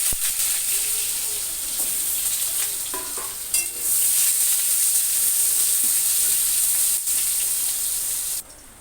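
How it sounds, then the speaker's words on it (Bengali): Potato pieces fry in hot oil in a kadai, giving a steady, loud sizzle and hiss throughout, with a few soft stirring clinks along the way. "আলু দিয়ে দিচ্ছি তেলের উপরে"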